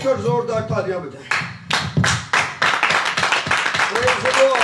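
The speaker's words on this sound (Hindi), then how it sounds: "माइक पीछे रखिए और जोरदार तालियां बजाएं।" Congregation at a Christmas Eve church service clapping, loud rhythmic hand claps in bursts that mix with someone speaking and singing.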